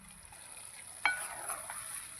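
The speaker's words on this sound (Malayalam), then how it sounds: "നന്നായിട്ട് ഇളക്കി യോജിപ്പിക്കുക." A spoon stirs ground coconut, garlic and cumin into a pot of aviyal curry. There is a faint, soft scrape and a brief wet clink partway through, with a light simmering sizzle underneath and no talking.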